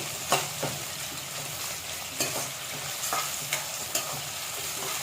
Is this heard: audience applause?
no